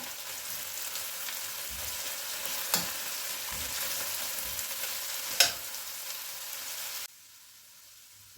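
Steady sizzling of onions frying in a pan, with a couple of sharp pops, then the sizzle drops away near the end.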